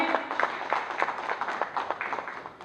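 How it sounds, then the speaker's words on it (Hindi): Fairly quiet applause from an audience at a stage play staged by a women and child welfare forum, with soft scattered claps forming a steady patter that thins toward the end. "इनके लिए जोरदार तालियां बजाएं।"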